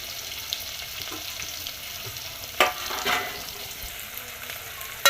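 Biryani masala with salt, ginger, tomato and coriander is stirred and mixed in a pot, giving a low steady sizzle with a few sharp scraping clinks of the spoon.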